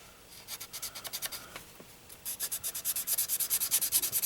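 Hand sanding on a car body panel to feather gouge marks, with steady rhythmic rubbing strokes close up, slower at first and then quicker and more regular, with no talk.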